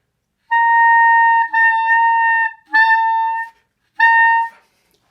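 Four sustained clarinet notes with poor voicing from excess tongue movement, each tone clear but slightly unsteady, separated by short breaks, played close and alone.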